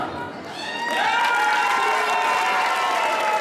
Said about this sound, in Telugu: ఎంత గట్టిగా చప్పట్లు కొడతారో చూద్దామా?